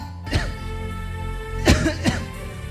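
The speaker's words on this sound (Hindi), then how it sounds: "आपके दोनों बेटा ऐसे क्यों खांस रहे हैं?" Two young men cough in short, harsh bursts, a few spaced coughs close by over a steady background tone.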